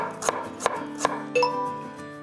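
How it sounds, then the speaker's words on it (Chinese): A knife slicing a peeled, halved and seeded pumpkin, four sharp, close chops on a cutting board with a bright, ringing knock after each, no speech. "这样子把它切片"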